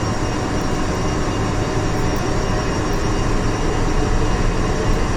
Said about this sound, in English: Vulcan howl incoming